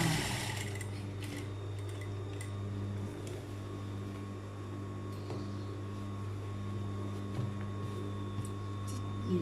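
A sewing machine stitches the collar of a tailored casual suit jacket with a steady, low mechanical hum and a faint ticking rhythm, running quietly and continuously.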